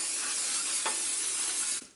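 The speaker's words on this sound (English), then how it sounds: "Then I'm gonna take my olive oil spray." Olive oil cooking spray hisses in one steady, close burst for about two seconds, then cuts off abruptly.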